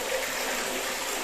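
Clear spring water pours steadily into the stone trough of an old holy well, a continuous close, broadband gushing with no voices over it.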